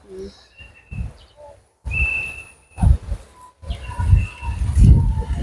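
Birds call near a crop demonstration garden of amaranth, cabbages and eggplants in Bukavu, giving short whistled chirps and tweets that come in bursts between gaps, moderately close and mixed with some talk and background rustle.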